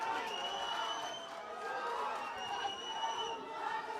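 Boxing arena crowd at a WBA Africa minimum weight bout, a steady broad roar of cheering and scattered applause with background chatter, fairly loud and continuous throughout.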